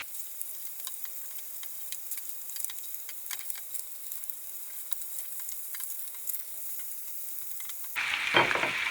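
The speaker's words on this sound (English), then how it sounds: "I'm going to add probably a little bit more butter, and then my tomatoes and my onions. And I'm going to saute those down a little bit." Fish, tomatoes and onions sauté in butter in a pan, a steady soft sizzle with light pops and crackles that brightens and swells near the end.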